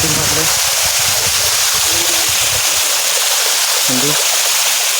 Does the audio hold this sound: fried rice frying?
no